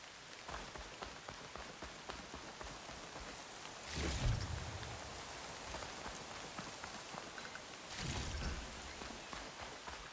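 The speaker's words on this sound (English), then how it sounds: "Rain's really coming down." Steady rain pours down in the video game Horizon Forbidden West, heard as a faint, continuous patter with two brief swells of heavier downpour.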